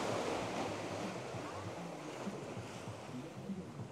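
Ocean waves washing over rocks at Matador as the tide comes in, a steady, fairly loud broadband surf wash with some wind noise, continuous throughout with no talking.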